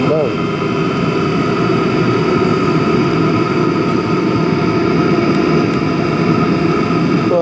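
A Chinese diesel heater burning an oil blend drones steadily with a loud, continuous low roar and whine, close by, showing little drop in level across the stretch.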